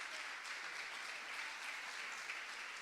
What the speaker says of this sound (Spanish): les damos, por favor, un aplauso a Rafa Cabeleira, a Arantxa Portavales